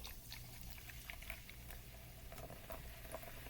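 Sprite poured into a measuring cup, a soft continuous liquid splash and fizzy patter lasting a few seconds, close and fairly quiet.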